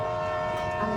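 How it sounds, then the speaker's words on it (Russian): Steady rumble and hum inside a crowded passenger train heading to Bari, Italy, a continuous rolling drone with faint background murmur and no clear speech over it. "мы стоим в поезде и поедем в Бари 20 минут поездки"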